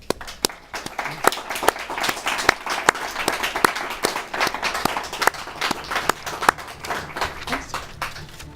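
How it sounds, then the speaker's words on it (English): Audience applause at the close of a live candidate forum on local politics, a dense sustained wash of many hands clapping with sharper individual claps standing out, steady and moderately loud throughout. "Audience, you may now applaud"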